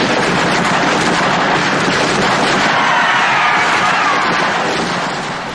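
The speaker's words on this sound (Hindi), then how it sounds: "इसीलिए उन्होंने रोशन सिंह व दूसरे क्रांतिकारियों पर फायरिंग शुरू कर दी" Dense, continuous gunfire from British soldiers shooting at revolutionaries, a roaring wash of rapid shots and battle noise that stays loud for several seconds before easing slightly at the end.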